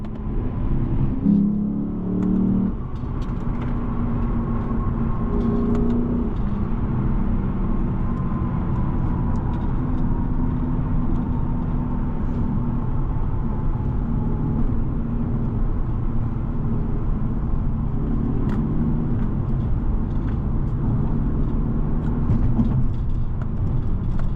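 A 2016 Lexus GS F sedan drives along with a steady, loud engine drone and road rumble throughout, a few brief revving swells near the start, and no one speaking.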